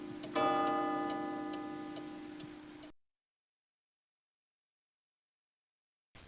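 A wind-up clock from a 1992 Windows 3.1 living-room game sounds for about three seconds, with a steady mechanical tick-tock and a ringing tonal layer, then the clip falls silent.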